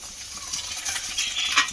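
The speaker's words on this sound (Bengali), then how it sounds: "ডিমটা একটুখানি ভাজা হওয়ার জন্য রেখে দেবো" Eggs fry in a pan with light sizzling, faint scraping and clinks, steady and fairly quiet, no voices.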